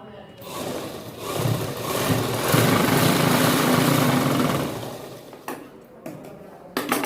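A sewing machine stitches a seam on salwar fabric, giving a steady whirring motor run for several seconds that then slows and stops, followed by a few small clicks and knocks, close by.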